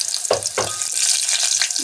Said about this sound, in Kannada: ಎಣ್ಣೆ ಕಾದಿದೆ, ಇದಕ್ಕೆ ಸ್ವಲ್ಪ ನೀರುಳ್ಳಿ ಹಾಕ್ತೀನಿ